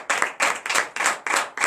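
A congregation claps in rhythmic unison during a morning prayer service in Comè, Benin: six sharp, evenly spaced bursts of hand claps, close and loud, with no voices over them.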